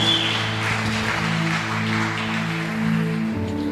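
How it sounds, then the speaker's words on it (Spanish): A church congregation claps together in a steady, dense, fairly loud round of applause, sustained evenly for a few seconds with no talking over it. "Denle un aplauso a la palabra del Señor"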